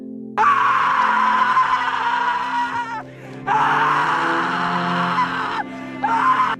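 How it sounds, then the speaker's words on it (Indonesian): A man screams in anger in a scene from the 2010 film Never Let Me Go, loud raw sustained yells in three long bursts with brief breaths between, over a low background rumble. "tiba-tiba keluar dan mulai berteriak mengeluarkan amarahnya"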